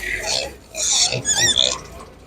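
F1 crossbred meat pigs at an animal market grunt and squeal up close in short, overlapping bursts, and some squeals rise to higher-pitched notes.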